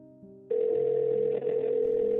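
A phone ringback tone heard while calling a mobile number: a short lower tone, then a loud, steady electronic tone that starts abruptly and holds, clear and close, with no voices.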